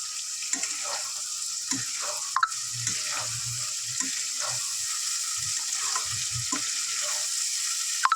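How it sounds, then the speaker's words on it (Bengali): Prawns stirred in a pan of fried spice paste for a coconut-milk prawn curry crackle with a steady, close sizzle, with soft thuds and scrapes as the spatula turns them. "এবারে দিয়ে দেবো চিংড়ি মাছগুলো চিংড়ি মাছগুলো দিয়ে ভালো করে নেড়ে ছেড়ে নেবো"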